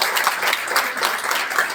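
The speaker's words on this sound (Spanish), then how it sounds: "Un aplauso más fuerte para Juan de la orquesta, que se la rifó." Dense, steady applause from a conference audience fills the whole moment, many hands clapping loudly together after an orchestra performance.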